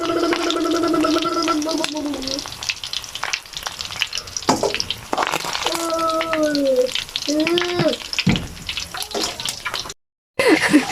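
Shrimp tempura frying in oil, a loud close bubbling sizzle that runs nearly throughout, broken by a brief pause, with voices talking over it.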